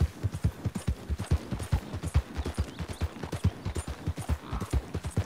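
Horse hooves clip-clop in Red Dead Redemption 2, a quick steady rhythm of close, distinct thuds continuing throughout with no voices over them.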